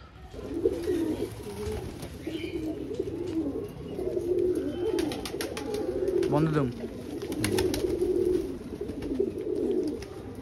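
Madras pigeons coo in a low, repeated, throaty rhythm close by, with someone talking over the birds at times.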